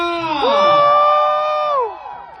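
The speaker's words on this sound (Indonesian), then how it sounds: "Sekali lagi jerit untuk Luna Maya." Crowd at a film premiere in a Mid Valley cinema, a loud sustained high-pitched scream rising and then falling away, with cheering blended in, close and filling the space.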